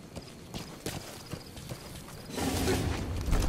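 Horse hooves in Metal Gear Solid V clip-clop in a sparse, uneven walking rhythm, clear and close, then a louder rumbling rush of movement takes over near the end.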